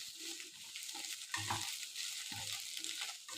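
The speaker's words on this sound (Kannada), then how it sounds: "ಮೊದಲಿಗೆ ಬೆಂಡೆಕಾಯಿನ ಎಣ್ಣೆಲೆ ಒಂದು 4-5 ಮಿನಿಟ್ಸು ಫ್ರೈ ಮಾಡ್ಕೋಬೇಕು" Okra frying in oil in a pan, producing a faint, steady sizzle with occasional stirring bumps and scrapes.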